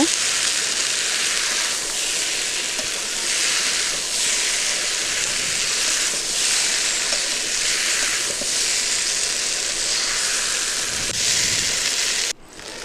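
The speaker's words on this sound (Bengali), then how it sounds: "চিংড়ি মাছগুলো ভাজা চিংড়ি মাছগুলো দিয়ে দিলাম ভালো করে নেড়ে নেব" Steady, loud sizzling of fried prawns in hot oil in a pan, a continuous bright crackle with faint stirring scrapes, no voices, cutting off abruptly near the end.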